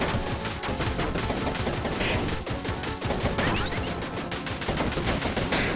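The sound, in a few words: gunfire from a video game weapon, Mars Infestation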